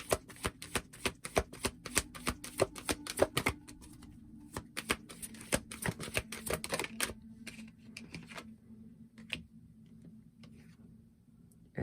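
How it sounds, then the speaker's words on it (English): Enchanted map cards being shuffled and drawn for a tarot-style reading, a dense flurry of crisp riffling snaps for several seconds, then sparser soft card clicks and slides near the mic. "We're going to draw some enchanted map cards here."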